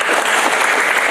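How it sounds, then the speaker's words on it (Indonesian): Congregation at a Christian church service bursts into steady applause, dense clapping sustained throughout, loud and close, with no talking over it. "Tepuk tangan."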